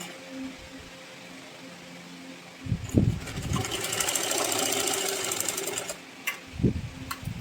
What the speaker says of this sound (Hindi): तब हम इस पर यहाँ पर सिलाई लगाएंगे